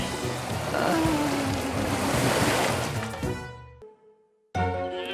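Cartoon tide waves rush in as a loud wash of surf that swells, then recedes and fades into silence, followed by a brief new sound at the end.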